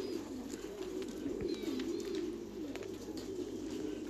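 Thai Titan meat pigeons coo on a pigeon farm, their low throaty burbling running almost without break, quiet and a little distant, with a few faint high chirps above.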